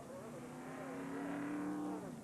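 Stock race car engine at a 1992 Winston Sportsman 100 track, loud and steady with rising engine tones as the car comes in amid continuous crowd and track noise.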